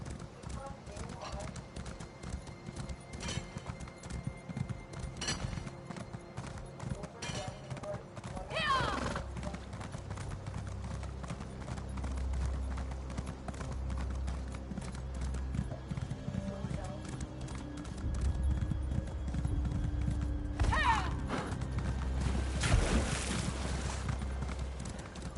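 Horse hooves clip-clop steadily while riding through Elder Scrolls Online on PS5, a continuous mid-level trot under game ambience and sporadic speech, with a brief whinny-like burst partway through.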